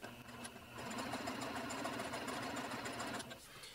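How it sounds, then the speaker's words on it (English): A sewing machine runs a seam through muslin fabric, a steady close mechanical whir and rapid needle chatter for about three seconds, starting and stopping softly at each end. "right now I'm sewing probably at about 5/8 of an inch instead of 1/2 of an inch"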